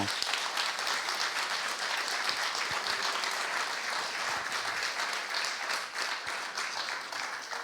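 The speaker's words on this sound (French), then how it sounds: "je propose qu'on les applaudisse aussi dans leur mission" A church congregation at a Sunday service applauds steadily for the parents, a dense, even wash of clapping that holds for the full stretch without pause.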